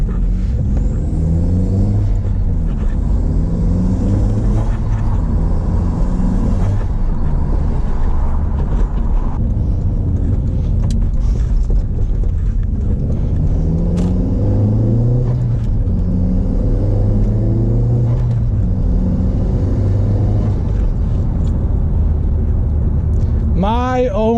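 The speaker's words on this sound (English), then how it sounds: "Just got the suspension kit fully installed. We are about to go for the first drive." A Mk1 Audi TT 225 with a newly fitted Bilstein B12 cup suspension kit drives with the windows down, its engine droning and rising in pitch as it accelerates, a steady loud rumble throughout, with someone talking over it.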